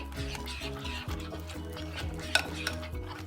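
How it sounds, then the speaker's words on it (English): A spoon stirs thick banana fritter batter in a bowl, giving soft, quiet scraping and tapping strokes under a steady background hum, with one brighter clink near the end. "Yep, we continue mixing."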